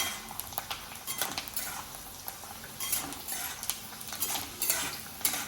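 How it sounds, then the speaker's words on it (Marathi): Peanuts roasting in hot oil in a pan, a faint, continuous sizzle punctuated by repeated light scrapes and clinks of a stirring spoon against the metal, with no talking. "शेंगदाणे मस्त खरपूस भाजून घ्यायचे"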